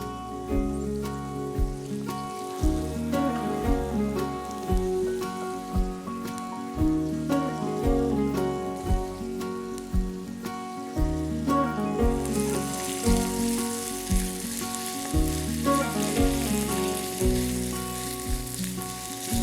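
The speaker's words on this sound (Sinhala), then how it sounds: "මේක අපි එකතු කරගන්න ඕනේ සුදුලූණු ලූණු බැදෙන පෑන් එකට." Chicken frying in a pan with garlic and onion gives a steady sizzle under loud, continuous background music, with the sizzle brightening in the second half.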